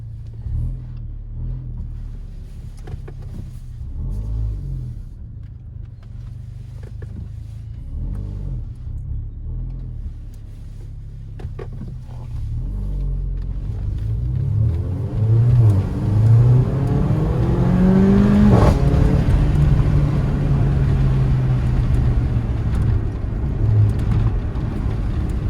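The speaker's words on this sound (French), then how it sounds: "Il va y avoir une explosion. Et pareil, ça va faire des retours à l'échappement." A Mercedes-AMG GLA 45 engine builds from a steady low rumble into hard acceleration, rising in pitch and loudness, with a brief sharp burst mid-way like an exhaust pop or shift.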